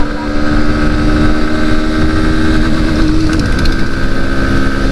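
A Bajaj Pulsar NS160 motorcycle speeds along a highway, its engine droning loud and continuous with a strong rumble and wind noise throughout.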